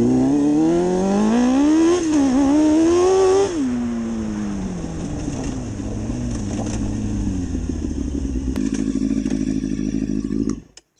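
A CBR DRZ 600 hybrid motorcycle is tested for the Malle Mile 2020, its engine revving hard in rising and falling sweeps close by, then settling into a rough, lumpy idle before cutting out.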